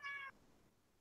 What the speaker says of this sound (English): I bet you can hear him meowing his head off